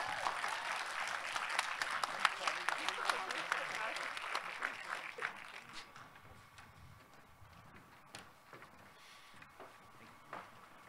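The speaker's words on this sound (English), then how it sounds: "please let's give a round of applause to Paola for this very important award" Audience applause at a university commencement ceremony, a steady patter of many hands clapping that gradually thins and fades over several seconds, heard somewhat distant in a large venue.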